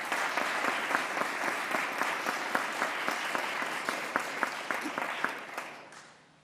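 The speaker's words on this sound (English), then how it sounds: "Let's give them a round of applause" An audience applauds at a governor's briefing, steady clapping with distinct individual claps that gradually fades out toward the end.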